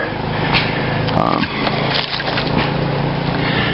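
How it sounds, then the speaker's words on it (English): A big chunk of wood is pried and split open outdoors to pull off tinder shavings, giving loud close cracking and splintering snaps over a steady rough background, with a sharp split near the middle. "I thought I'd see if I could break this open and see if I could take a couple shavings off of this big chunk"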